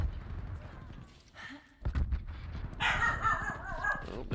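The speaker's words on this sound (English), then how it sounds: "there's a dog barking again" A dog barks a few times in the background during an online shooter match, with short, fairly close barks between game noise and a murmuring voice.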